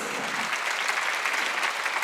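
Church congregation applauding during an Easter Sunday service, a steady, even burst of clapping from many hands, moderately loud and sustained.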